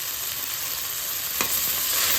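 Cabbage and shrimp stir-fry sizzling in a pan while being stirred, a steady bright frying hiss with a brief scrape of the utensil partway through, no talking.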